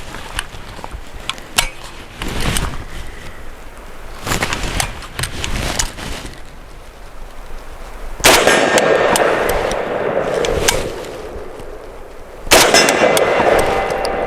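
A VSKA rifle fires Red Army standard ammunition on an outdoor range. Loud, sharp shots come at uneven intervals, each followed by a ringing tail, with two heavier blasts in the later part.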